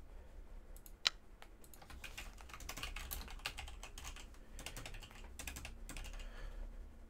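Typing on a computer keyboard during a Town of Salem game session, soft quick keystroke clusters in irregular bursts with short pauses and one sharper click early on, fairly quiet and close, no talking.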